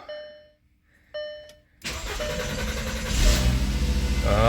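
A 2004-2010 VW Beetle with a 2.5L engine cranks and catches after a fuel pump and filter replacement, a couple of short starter bursts giving way to a loud, steady running engine that builds and holds close by, with a brief spoken word.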